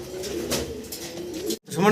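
Low, soft cooing of fancy pigeons repeating close by, with a brief pause near the end and faint voices in the background.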